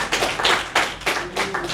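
Loud, close clapping bursts from an audience at an honours ceremony, saluting the president of the Assembly: a handful of uneven, separate claps rather than sustained applause.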